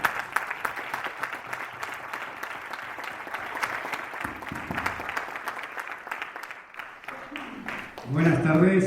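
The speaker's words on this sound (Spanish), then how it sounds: "Le podéis dar un aplauso." A council plenary audience claps for Félix Aparicio in a dense, steady round of applause, with murmuring crowd noise underneath; toward the end the clapping thins and a voice starts speaking.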